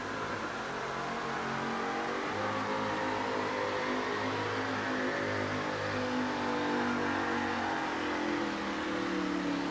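The Bigfoot monster truck's engine roars loud and steady at a monster truck show, a continuous heavy revving drone with a sustained throaty rumble throughout, crowd noise faint beneath.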